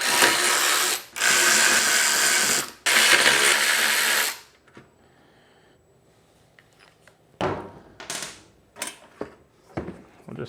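A ratchet wrench removes bolts from the cover of a Toro walk-behind mower: a few bursts of fast clicking, then scattered small clunks and taps of metal parts.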